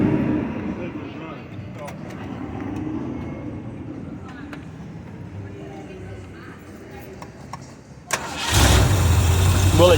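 A small classic car fires up instantly at an outdoor car show, its engine catching with a sudden loud burst and settling into a steady close idle, after several seconds of background chatter and ambient crowd noise.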